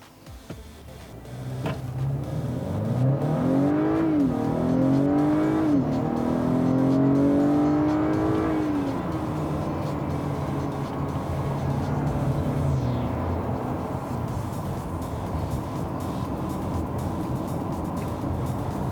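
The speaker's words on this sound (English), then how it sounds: "Try another acceleration run here from a stop." A 2019 Acura RDX A-Spec accelerates hard from a stop, its engine note climbing through rising gear sweeps with shift dips before settling into a steady cruising drone with road noise, loud and continuous throughout.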